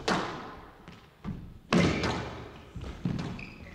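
A squash player dives onto the court floor during a Manchester Open semi-final, giving several dull thuds and a sharp slam in quick succession, with a faint squeak of shoes at the end.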